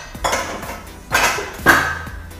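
Dishes set down on a tray one after another, producing three distinct clattering clinks of crockery and utensils, close and loud, with short pauses between.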